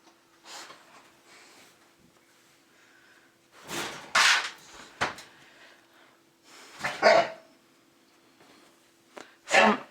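A playful puppy lets out several short, sharp bursts of barks and snorts between quiet stretches, close by and loud, with a faint steady hum underneath.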